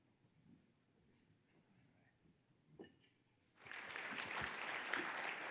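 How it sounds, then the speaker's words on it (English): An awards-forum audience applauds legislators, the clapping swelling suddenly from a quiet room into loud, sustained applause that fills the last couple of seconds. "Let's have a round of applause for these great legislators."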